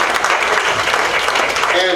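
A board meeting audience gives a round of applause, a dense steady wash of clapping filling the room throughout with no pauses.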